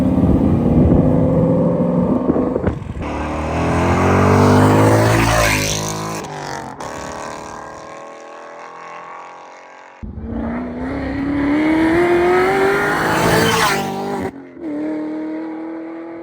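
A 550 hp Mercedes C63 AMG engine revving hard off the wall on a track, loud close-up roaring sweeps up and down through the rev range with two long pulls and brief lifts between them.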